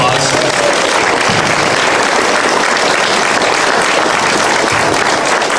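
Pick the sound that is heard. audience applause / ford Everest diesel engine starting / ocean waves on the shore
audience applause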